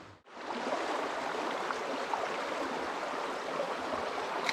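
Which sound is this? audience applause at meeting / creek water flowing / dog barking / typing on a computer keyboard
creek water flowing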